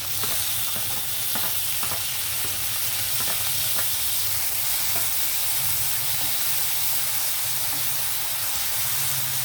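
Onions and tomato frying in a pan for a home-style curry, a steady close sizzle and hiss with occasional stirring scrapes, continuous throughout with no talk.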